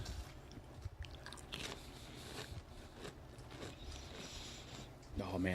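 Close chewing of flavored Peeps marshmallow candy, soft sticky bites and crunches repeating over several seconds, mixed with faint background voices.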